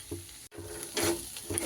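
Onion stalk stuffing sizzles quietly in a pan as a spatula turns it in a few soft scraping strokes, with a brief dropout partway through.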